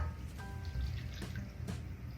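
Liquid pours steadily into a cookie dough mixture in a kitchen, a soft continuous trickle close by, with no talking.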